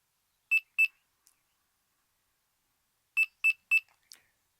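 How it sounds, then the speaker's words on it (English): A Delkim v2 carp-fishing bite alarm gives crisp, high-pitched electronic beeps: two quick ones, a pause, then a clear set of three evenly spaced beeps, each short and sharp against silence. "turn the alarm on and wait for 3 beeps"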